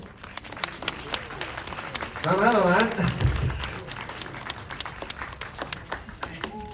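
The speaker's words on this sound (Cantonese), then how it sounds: "俾掌聲佢哋先" A theatre audience claps for the cast on stage at a Hong Kong film premiere thank-you screening, a steady patter of applause running throughout with a voice speaking briefly over it in the middle.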